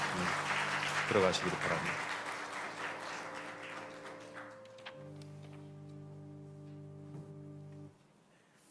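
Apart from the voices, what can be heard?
church congregation applause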